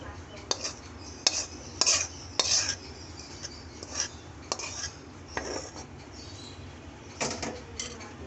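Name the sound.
chickpea curry being poured into a serving bowl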